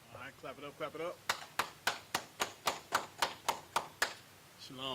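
Rhythmic clapping in unison at a brotherhood class, about a dozen sharp, evenly spaced claps on a steady beat, with a chanting voice before and a voice starting again at the end.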